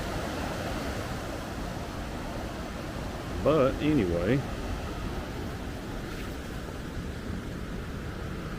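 A small waterfall on Dick's Creek Falls along the Bartram Trail, reduced by drought to a little water trickling over rocks, gives a steady soft wash throughout, with a person briefly talking over it midway.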